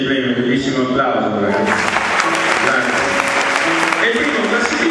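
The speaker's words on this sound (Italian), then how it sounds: "bellissimo applauso." An audience at an award ceremony breaks into loud, sustained applause that starts about a second and a half in and carries on densely to the end.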